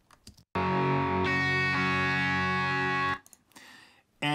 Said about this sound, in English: And more guitars.